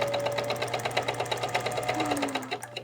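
A 1950 Elna Grasshopper vintage sewing machine runs with a fast, steady mechanical clatter of evenly spaced stitching beats over a low hum, close and clear, slowing and stopping at the end.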